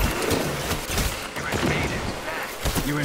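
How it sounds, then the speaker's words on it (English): Weapon fire and explosive blasts from a grenade launcher in the Gambit mode of the shooter Destiny 2, a busy run of sharp booms and shots over game effects, with talk over the action. "Nice when I can one-shot him with my grenade launcher"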